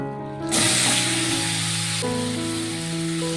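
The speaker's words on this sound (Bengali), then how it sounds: "চিংড়ি মাছটাকে একটু ভেজে নেব।" Prawns drop into hot oil seasoned with turmeric and salt, setting off a loud, steady sizzle that bursts in abruptly and holds strong throughout, with a fresh surge of crackling midway.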